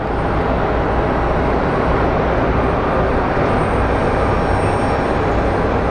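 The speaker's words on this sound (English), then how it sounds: "let's go take a look at our Airbus coming in from Chicago" An Airbus airliner arriving from Chicago on approach to Phoenix Sky Harbor, heard from about a mile away as a steady, loud broadband engine roar with no voices.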